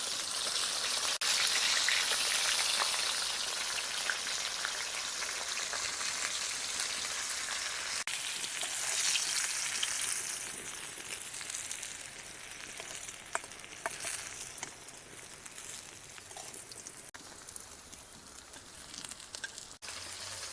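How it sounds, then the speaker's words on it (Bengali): Rohu fish pieces fry in hot mustard oil, a continuous bright, hissing sizzle heard close up for a long stretch, with faint clicks and shifts in intensity and no talking. "সরষের তেল দিয়ে মাছগুলো ভেজে নেব।"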